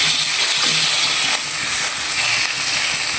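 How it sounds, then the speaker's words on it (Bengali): Small local koi fish frying in oil in a pan, a loud, continuous hissing sizzle heard close up. No one speaks. "এইভাবে মাছগুলো ভেজে নিব"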